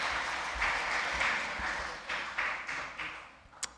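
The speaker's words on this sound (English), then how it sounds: "So this week we're back to applause, so feel free." A congregation at a worship service applauds in a steady, dense patter of many hands that thins out and fades toward the end, with one sharper clap near the close.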